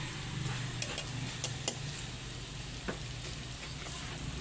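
Garlic fries in a pan for a quick simple home-cooked dish, a steady close sizzle broken by a few light utensil clinks and scrapes.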